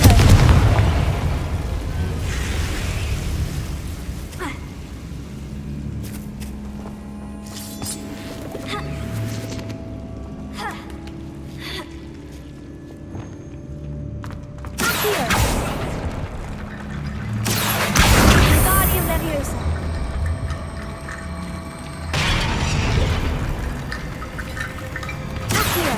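Confringo fire spells go off in Hogwarts Legacy, sending out a run of loud booming blasts that burst sharply over a quieter game background, with strong hits near the middle and end.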